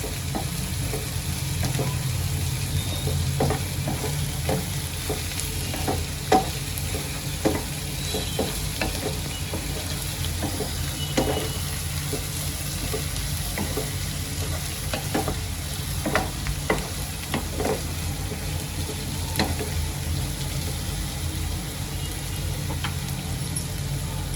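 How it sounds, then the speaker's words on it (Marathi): Green chillies frying with softened onions in a pan for paneer bhurji give a steady close sizzle, with repeated sharp scraping clicks from stirring scattered throughout. "आता मिरच्यांना पण चांगलं तळून घेते याच्यामध्येच"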